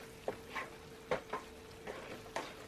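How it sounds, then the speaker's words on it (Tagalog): A spoon stirs a meat sauce thickened with cornstarch in a pan: soft, rhythmic scraping strokes, about five or six close, quiet sweeps over a faint background hum. "So, ipupour lang po natin. Then, haluin natin."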